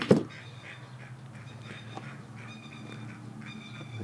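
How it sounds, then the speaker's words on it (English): Native hens making a racket outdoors, repeated harsh honking calls scattered across the clip at moderate distance over a low steady background hum, with a thump at the start. "I think that's a native hens making a racket."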